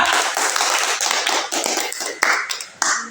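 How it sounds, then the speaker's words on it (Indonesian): A classroom of students claps for a group after its presentation, a dense, fairly loud patter of hand claps running throughout with a few sharper claps standing out near the end. "Tepuk tangan untuk kelompok 3."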